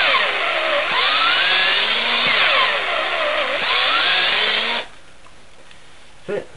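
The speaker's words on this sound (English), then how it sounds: "that's just a 18 volt battery drill" An 18-volt cordless battery drill runs loud and steady with a whining motor tone that rises and falls under load for nearly five seconds, then stops abruptly, leaving a quiet room with one brief knock.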